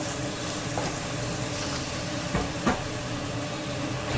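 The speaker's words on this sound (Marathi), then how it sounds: "एक चम्मच पेस्ट झालेला आहे ते घातलं त्यामध्ये दोन चम्मच शेंगदाणे तूप घालत आहे त्याला मस्त असं परतून घ्यायचं" Chili paste fried in two spoons of peanut oil in a pan gives a steady, close sizzle throughout, with a couple of brief clicks from stirring and no talk.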